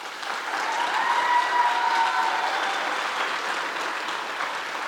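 An audience at an arangetram dance recital breaks into sustained applause for the performer, a dense, even wash of clapping that swells and holds for several seconds before easing slightly, with a few faint cheers.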